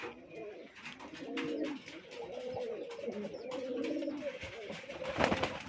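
Rajshahi Giribaz pigeons coo steadily and close, in soft repeated low throaty calls with a few overlapping birds, and no talking.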